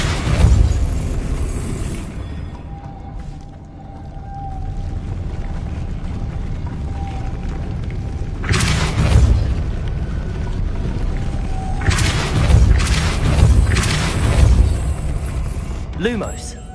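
Spell blasts from the Confringo fire spell in the Hogwarts Legacy video game, with loud booming bursts near the start, around 9 seconds and again at 12 to 13 seconds over a steady rumbling game backdrop and some talk.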